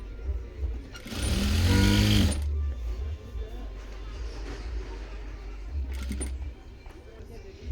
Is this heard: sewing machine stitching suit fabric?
yes